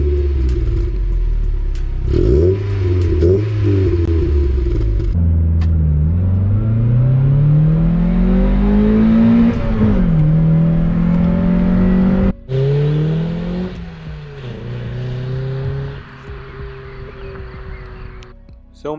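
A Mazda MX-5 NB-FL sports car fitted with a sports exhaust revs repeatedly, its engine note sweeping up and down in loud, close rumbling pulls that continue almost unbroken for nearly twenty seconds with no talk.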